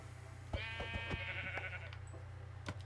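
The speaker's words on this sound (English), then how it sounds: "Oh, black sheep." A black sheep bleats in the Minecraft video game, one drawn-out wavering bleat near the listener over a steady low background hum, with a few faint clicks around it.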